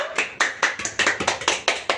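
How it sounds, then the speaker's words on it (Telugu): A few people clap their hands together in a fast, steady rhythm of about eight sharp claps, close and loud, at a gathering in a home. "చప్పట్లు కొట్టువే, కొట్టు."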